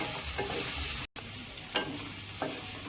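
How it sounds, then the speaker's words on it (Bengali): Diced potatoes stir-fried in a pan with mutton fat for ghugni, giving a steady close sizzle broken by a few soft scraping stirs and one brief dropout. "আলুগুলিকে এর সঙ্গে একটু কষিয়ে নেবো সুন্দর করে"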